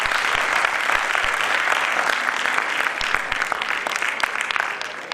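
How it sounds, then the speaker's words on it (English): Sustained applause from a sizable convention audience of several hundred attendees, a steady wash of many hands clapping with a few sharper individual claps standing out, continuing evenly throughout. "A big round of applause from all of us here also for all our students for doing this wonderful convention."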